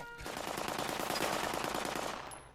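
Rapid automatic gunfire rattles in a dense, continuous burst lasting a couple of seconds during a Fallout 76 player-built PvP arena fight, loud and close.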